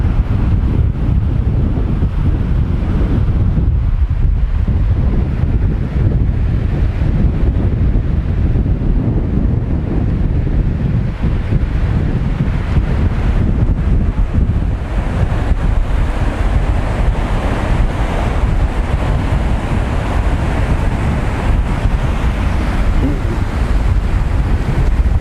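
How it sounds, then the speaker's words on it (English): Strong wind buffets the microphone over rough surf crashing at Nai Harn Beach in Phuket, a loud, continuous roar of wind and waves that never lets up, with no one speaking. "The wind is really ripping in here."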